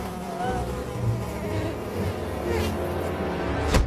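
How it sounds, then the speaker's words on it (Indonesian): A swarm of thousands of attacking bees makes a dense, continuous buzzing drone at moderate level, rising slightly toward the end with a short sharp swish, and no voices. "Dengan kemampuannya dia mendatangkan ribuan lebah yang menyerang Bu Thornhill."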